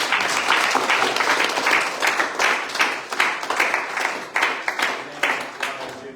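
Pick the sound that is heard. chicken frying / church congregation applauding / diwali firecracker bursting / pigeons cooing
church congregation applauding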